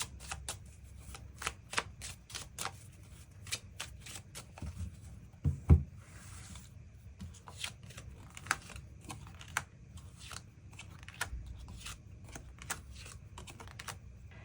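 Tarot cards being shuffled and drawn during a reading: close, quiet riffles and crisp card snaps in irregular bursts, with soft slides and taps in between and no talking.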